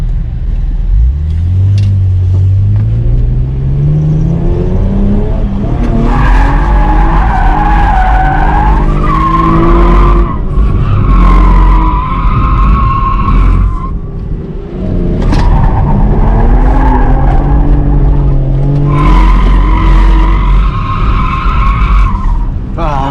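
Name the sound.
automatic V6 Camaro drifting at a race track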